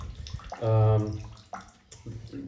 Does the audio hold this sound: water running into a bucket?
yes